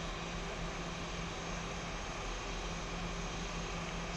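An aircraft engine drones in a flight simulator game on a night flight from the Bahamas to Key West, a steady, even engine roar held constant throughout, faint and unbroken with no voices.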